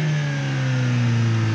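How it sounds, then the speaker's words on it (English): A car engine revs hard and steadily, its tone climbing slightly as it holds at high revs, close and loud with no voices over it. "Alright, Josh, rev it!"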